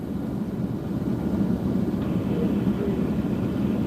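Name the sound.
heavy lift helicopter rotor thumping overhead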